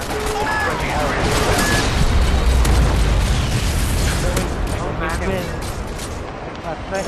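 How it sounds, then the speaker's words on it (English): Airstrike explosions and scattered gunfire from the video game Modern Warfare 2 form a dense, loud barrage of booms and bursts, and game voices call out over the continuous battle din. "Friendly airstrike inbound."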